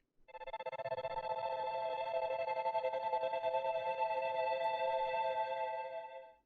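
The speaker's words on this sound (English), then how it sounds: "with this guitar reverb chopper and the delay that I put on it, it sounds really ambient and spacious." A bell-like synth tone is processed through a guitar reverb chopper and delay, producing one sustained, shimmering chord with a faint rhythmic flutter that swells in, holds steady for about six seconds and fades out.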